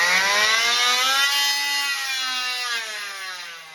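Oscillating multi-tool (renovator) running at its lowest speed setting, a close, loud, steady buzzing whine whose pitch shifts slightly as it spins up, with no talking.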